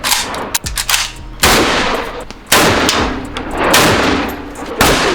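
Handgun shots fired on a tactical shooting range in Cape Town, several loud sharp cracks spaced a second or so apart, each with a short ringing tail, with no talk over them.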